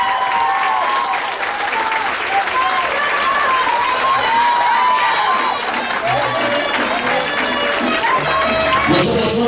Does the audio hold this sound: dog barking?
no